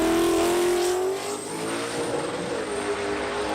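Drag race car accelerating hard off the line, lifting into a wheelie, its engine a loud sustained roar that climbs steadily in pitch, heard alone and close.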